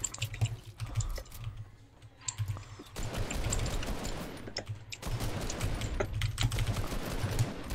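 Rapid clicking keystrokes on a computer keyboard during an online video game session, a steady close-up patter of taps with no voices over it.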